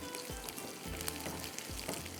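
Tadka of oil or ghee heated in a pan for a baked chicken dish, a soft continuous sizzle and crackle with a few faint spoon thumps, quiet and close, no talk.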